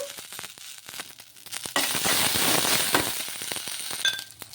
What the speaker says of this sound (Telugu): ఆయిల్ వేసుకొని మగ్గించుకోవాలి కొద్దిగా ఇప్పుడు కొంచెం పుదీనా వేసుకుందాము